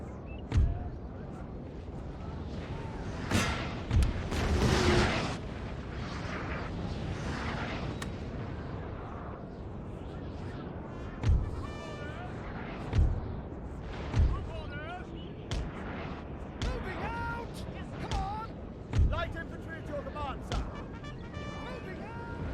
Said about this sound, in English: Gotta love those rounds coming in.